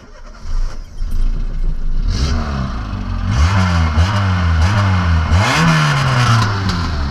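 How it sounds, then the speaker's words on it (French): A Citroën Saxo rally car with a 2.0 engine cranks and fires, then revs in repeated sweeping bursts, loud and close, with popping and crackling backfires between the revs. "Ça fait des pétarades."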